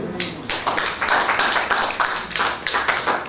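An audience claps steadily and fairly loudly throughout, with dense overlapping hand claps swelling in uneven waves and no voices.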